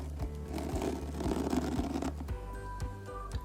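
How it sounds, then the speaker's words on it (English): A stiff internal zipper on a Polene Number One bag is slowly pulled open, giving a close, rough grinding rasp with repeated ticking catches as the pull drags along the teeth. "This internal zipper is very stiff. I'll just open it so you can hear the noise."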